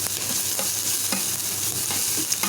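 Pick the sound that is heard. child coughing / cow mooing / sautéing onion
sautéing onion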